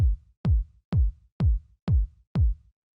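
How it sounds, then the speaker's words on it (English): A punchy 909-style kick drum for minimal house hits six times at an even, steady tempo. Each hit is deep and thumping with a quick decay, and it plays alone. "The next thing we have here is the kick, which sounds like this."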